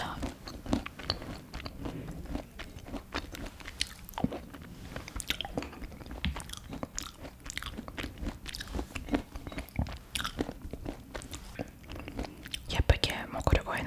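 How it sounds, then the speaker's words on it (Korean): Close, quiet eating sounds of a smoothie bowl, with soft repeated chewing, crunching of toppings and spoon scrapes in an intimate mukbang-style setting, with no talking. "오늘 제가 만들었던 스무디볼 맛있게 잘 먹겠습니다."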